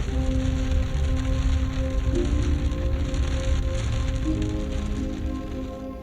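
Steady rain at San Bernardino Pass fills the scene with an even, dense hiss that holds constant for several seconds, with no voices.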